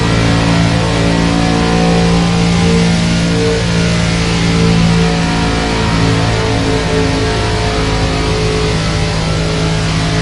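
Stock-car engine in NASCAR 25 screams at sustained full throttle, a loud, dense, unbroken drone with slight pitch wavering as the car lets up briefly.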